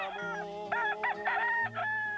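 Fighting cock roosters crow loudly and close, several overlapping calls rising and falling over a steady hum, with clucking from other fowl.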